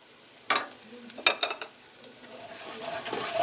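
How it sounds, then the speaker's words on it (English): Flour stirred into meatball drippings in a pan to make a dark roux, with a few sharp scraping strokes of the utensil over a soft, steady sizzle that slowly builds. "So I'm going to stand here and stir this."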